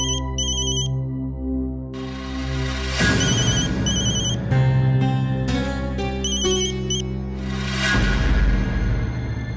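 A mobile phone signals an incoming call with a loud, close, melodic ringtone that repeats steadily for several seconds, with no talking.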